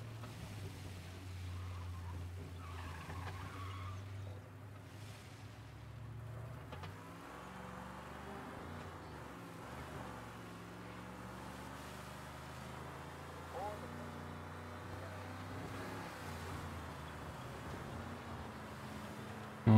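Engine drone of a 1930s car driven in Mafia: Definitive Edition, a steady low hum with slight shifts in pitch, continuing under talk for the whole stretch.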